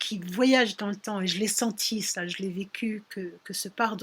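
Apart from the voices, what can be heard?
No everyday noises stand out.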